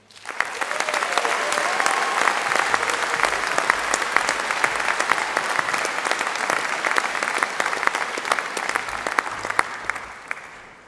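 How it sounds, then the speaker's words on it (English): A large audience at a university graduation ceremony breaks into sustained applause, dense and even, rising quickly and holding steady for about ten seconds before tapering off at the end. "I think an even bigger round of applause, please"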